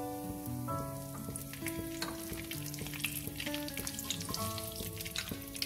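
Cumin seeds and a bay leaf fry in hot oil with a steady crackling sizzle, close and even, under soft background music and with no talk.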